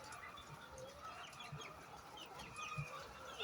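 Free-range brown layer hens clucking softly at a farm, a few low clucks spread over a steady faint background of distant birds and ambient noise.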